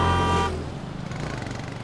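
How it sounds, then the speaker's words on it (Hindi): Car horn honking in traffic, a loud sustained blare that cuts off after half a second, followed by rumbling vehicle noise. "वो हॉर्न बजा रहा, सुनाई नहीं देता तुम्हें?"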